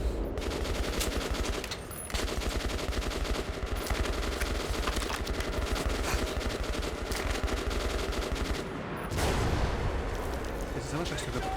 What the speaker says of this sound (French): Je suis tiré dessus, ça marche.